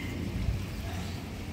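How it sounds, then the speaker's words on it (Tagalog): Heavy rain pours steadily as a broad, even hiss under a dark sky, with a brief low thump near the middle and no voices. "Sobrang dilim, ang lakas ng ulan nito."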